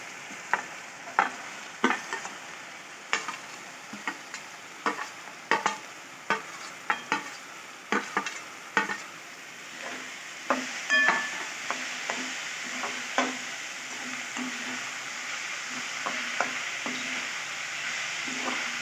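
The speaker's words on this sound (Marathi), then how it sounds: "यात आपण आता थोडी शिमला मिरची पूर्ण अशी छान मऊ होईल तोपर्यंत परतवून घेऊया." Capsicum sautéing with tomatoes in a pan for paneer tikka masala makes a low, steady sizzle under many sharp, irregular clinks and scrapes of a spatula stirring, close and without talk.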